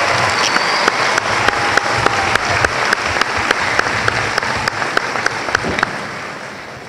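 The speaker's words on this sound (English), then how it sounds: "Another big round of applause, please, for the award winners." Steady applause from a crowd at a 12th grade graduation ceremony for award winners, dense clapping sustained throughout with a few sharper claps standing out, fading slightly at the end.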